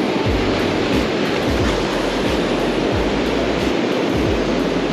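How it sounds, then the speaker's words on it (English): Ocean waves at the tide line where Dungeness crabs are caught make a loud, continuous roar of surf close by, with no voices. "Over the waves, not against the waves."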